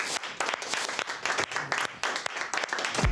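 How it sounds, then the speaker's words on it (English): A studio audience bursts into applause and clapping for Sophie at the close of a comedy show, a dense, lively roar of hands with a few uneven swells. "Give her a round of applause."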